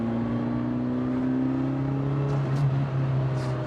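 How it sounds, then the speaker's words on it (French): A Ferrari Mondial engine drones loudly and steadily with a rising whine, accelerating in third gear, with no voices. "il y a un beau bruit, puis avec le bruit derrière du moteur"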